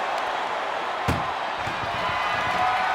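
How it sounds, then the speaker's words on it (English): A single loud slam of an ambulance door being shut during a WWE 2K24 ambulance match, landing sharply over a steady bed of arena crowd noise. "First door shut."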